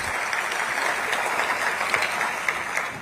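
An audience claps steadily at a launch event on stage, a dense, even burst of applause throughout the clip with no break.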